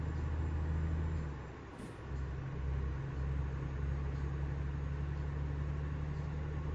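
A heavy truck engine in Euro Truck Simulator 2 drones steadily, its pitch dipping briefly as the gears change and then settling back into a sustained low rumble.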